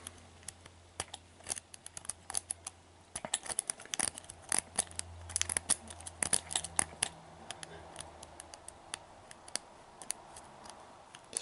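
A lock pick working inside an ERA Discus padlock, fitted with serrated pins, makes faint, sparse metallic ticks and scrapes close by, with no talking.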